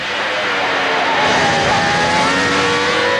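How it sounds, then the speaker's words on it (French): A Ferrari Formula 1 race car engine at the 1996 Japanese Grand Prix gives a loud, sustained, high-pitched scream, its pitch rising and shifting steadily as the car passes. "Et on écoute le moteur Ferrari."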